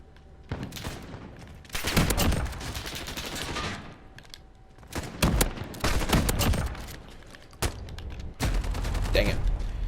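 A Model 680 shotgun fires in Modern Warfare, loud blasts alternating with sustained bursts of other gunfire that come in several dense stretches, all close and heavy.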